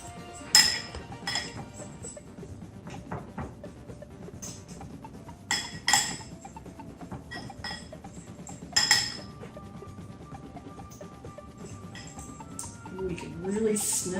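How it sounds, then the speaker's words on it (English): A spoon stirs popcorn seasoning spices together in a bowl, producing scattered clinks and taps against the dish over a soft scraping background, while a person talks. "we're going to stir all the ingredients together. Be sure to get rid of lumps."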